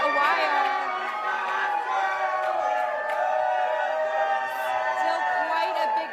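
Enthusiastic crowd outside after the Houston Astros' World Series win, a dense, steady roar of many voices, chatter and cheering blending together, loud and close throughout.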